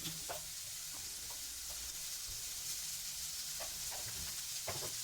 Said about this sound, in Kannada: ಸಾಸಿವೆ ಮೇಲೆ ಮಾವಿನಕಾಯಿ ಹೆಚ್ಚಿಟ್ಟ ಮಾವಿನಕಾಯಿ ಹಾಕ್ಕೊಂಡು ಚೆನ್ನಾಗಿ ಮಗಿಸ್ಬೇಕು